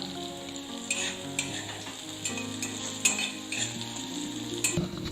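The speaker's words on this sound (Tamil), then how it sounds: "புளி சேர்த்து ஒரு 2 நிமிஷம் வதக்குனதுக்கு அப்புறமா நம்ம இதை எடுத்துடலாம்" Shallots, garlic and a piece of tamarind sautéing in a pan for green gram dosa batter, a steady close sizzle with repeated clinks and scrapes of a stirring spoon against the pan, no voices.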